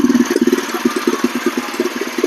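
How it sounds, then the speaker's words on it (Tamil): A power weeder's small engine runs right after starting, its close, loud, rapid pulsing firing beat steady throughout with no voices heard. "பார்த்தீங்கன்னா ஸ்டார்ட் ஆகுது"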